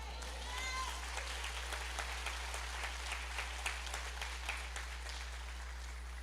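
Church congregation applauding after a call from the preacher, a steady, moderate wash of many hands clapping with a low hum underneath and faint voices mixed in.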